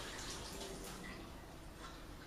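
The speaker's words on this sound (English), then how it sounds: "We're going to drain our potatoes." Water pours steadily as a pot of cooked potatoes is drained, a continuous broadband rush with no talk over it.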